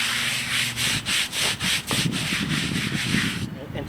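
A small brush scrubs a weathered stone headstone with rhythmic back-and-forth strokes, about seven distinct close swishes followed by quicker continuous rubbing.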